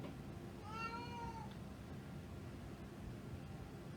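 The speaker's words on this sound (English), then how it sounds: "Does anybody hear a meowing cat?" A single drawn-out cat meow, faint and somewhat distant, rising over a constant background hiss, followed by quiet noise.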